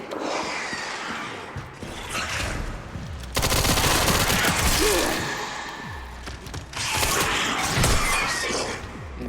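Shotgun or machine-gun fire in the survival horror game Resident Evil Requiem comes in loud, chaotic bursts, the heaviest in the middle and another near the end, mixed with crashing and shattering game effects.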